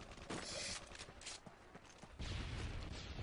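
Rapid-fire SMG gunfire in a multiplayer shooter video game, a dense, noisy burst of shots and clatter filling the whole clip, with no talk over it.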